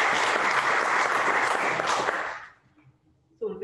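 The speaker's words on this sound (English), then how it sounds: "can we give Angela a round of applause?" Congregation applause at a church service, a burst of steady clapping that fades out after a couple of seconds, followed by a brief pause before a voice begins.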